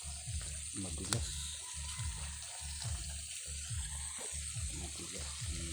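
Water from a natural spring flows and gurgles, a bright, continuous rushing and bubbling with rhythmic splashing pulses, close and steady without any voices.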